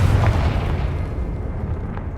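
Confringo fire spell going off in Hogwarts Legacy: a heavy, low explosive boom with a brief crackling burst, rumbling loudly over continuous game noise before tapering off.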